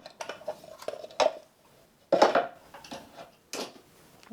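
The plastic lid and spiral of a 4x5 sheet film developing tank are handled close up, giving a few sharp clattering knocks and rattles separated by quiet pauses.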